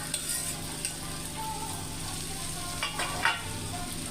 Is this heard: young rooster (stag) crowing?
no